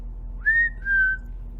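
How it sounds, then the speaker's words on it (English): Someone whistles a short two-note phrase, sliding up and then down, clear and close over a low steady hum. "You're going to have to know how to whistle."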